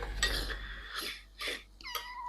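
A cat meows several times in short bursts, fairly close, with brief pauses between calls and no talking.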